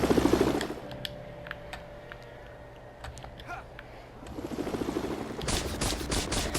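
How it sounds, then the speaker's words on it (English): Mandarin's helicopter from the video game Lego Marvel Super Heroes, a mechanical rotor whir and engine hum with clicking and firing bursts, loud at the start and again near the end, with no talk. "Then we got the Mandarin's helicopter."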